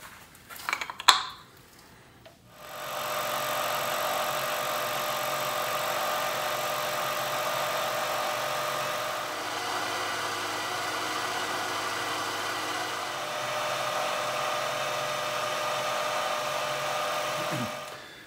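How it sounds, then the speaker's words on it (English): A steady high-pitched whine from a fly cutter on a milling machine facing cast acrylic, taking a ten-thousandths cut, running continuously for many seconds after a brief clatter at the start. "got a fly cutter in there. I'm taking 10/1000ths off to clean it."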